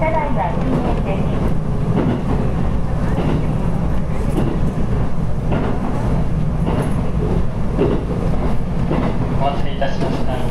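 JR Kansai Main Line rapid train running on rails between Kameyama and Kasado, a loud steady rumble heard from inside the carriage while a Japanese announcement plays over it.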